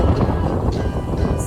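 Strong storm wind in the Netherlands buffets the microphone in a steady, loud, low roar for the whole stretch, with no talking over it.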